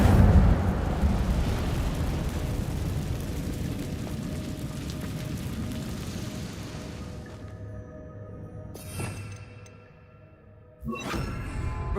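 A fire spell erupts in Hogwarts Legacy as a loud, roaring burst of flame that churns on for several seconds and slowly fades, followed by a couple of sharper magical whooshes near the end.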